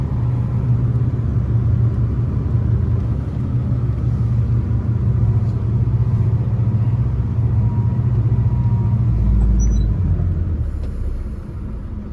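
A ten-wheeler truck stuck in the ground at a road construction site runs its engine in a deep, steady rumble close by, swelling briefly near the end before easing off.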